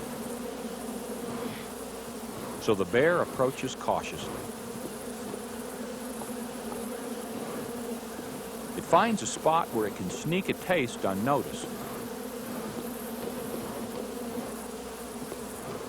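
Dense buzzing of a huge honeybee colony swarming around a hollow honey tree in a swamp, a steady insect drone that runs throughout beneath a narrator's voice.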